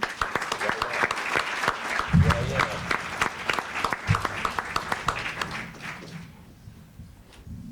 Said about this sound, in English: And that certainly deserves a round of applause, Tom.